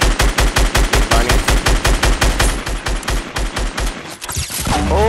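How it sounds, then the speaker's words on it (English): A video game firefight brings loud, close, rapid bursts of automatic gunfire in a steady, pounding rhythm, thinning out toward the end. "people are shooting from north"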